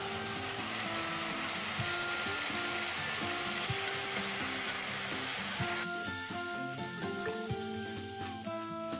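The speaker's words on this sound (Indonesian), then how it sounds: "Kita akan tumis dulu bumbu halusnya." Ground spice paste for Indonesian sambal tempe sautéing in a pan, a dense continuous sizzle with scraping and stirring clatter throughout, close and fairly loud with no talking.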